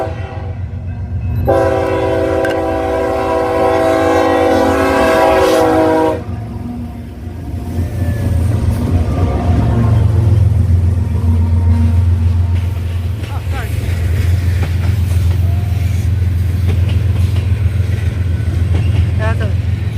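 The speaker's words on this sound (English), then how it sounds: "That's a BNSF new T4." A BNSF freight train hauling ethanol tank cars passes close by, its horn sounding a loud multi-tone blast before the heavy rumble and clatter of the rolling cars continues steadily.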